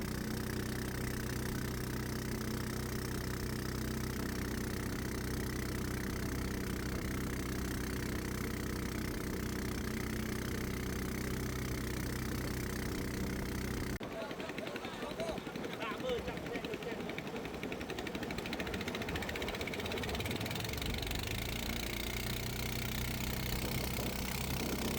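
A motorboat engine drones steadily on Tonle Sap lake, a constant low mechanical hum that shifts in tone and roughens midway, as if the throttle changes.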